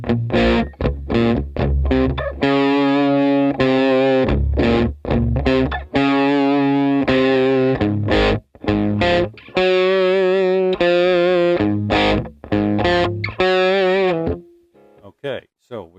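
An electric guitar runs through a low-gain Blues Drive overdrive on a Headrush Flex Prime, playing a continuous string of gritty, sustained notes and chords up close, then thinning to a few scattered plucks at the end.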